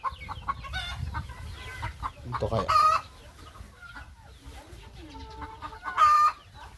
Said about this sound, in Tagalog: Kaya lang may mga manok.